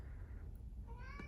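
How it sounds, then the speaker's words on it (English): A house cat in a bedroom gives one short, fairly close meow near the end, over a low, steady room hum. "if you hear a meow, that's my cat"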